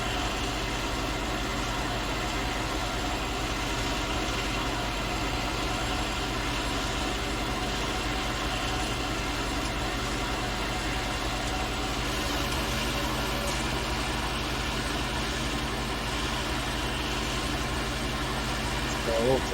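A combine harvester engine drones steadily through the whole stretch of an October field harvest of the last cereals, a constant low mechanical hum with vibration and no clear breaks.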